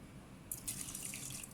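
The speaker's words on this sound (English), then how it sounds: "I'm going to pour in chicken stock until it reaches number 2" Chicken stock pours steadily into a Toshiba rice cooker pot with a soft splashing trickle, fairly quiet and close, no voices.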